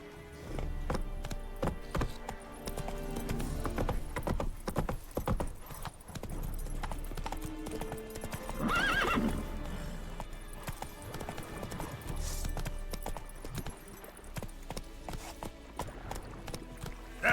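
Roach the horse in The Witcher 3: Wild Hunt, rhythmic galloping hoofbeats running continuously with a brief neigh midway, set under a game soundtrack.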